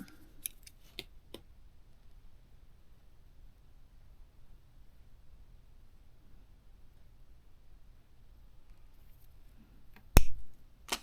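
Scissors snip through earring wire or thread during jewelry remaking, a few small crisp clicks at the start and one louder sharp snip near the end, close up over near silence.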